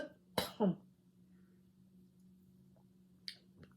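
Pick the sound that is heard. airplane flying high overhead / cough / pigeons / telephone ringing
cough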